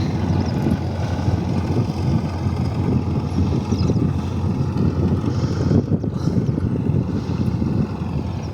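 A motorized plow churns through garden soil to prepare ground for pumpkins: a loud, constant low engine drone close to the microphone, roughened by gusts of wind buffeting the mic, with no speech.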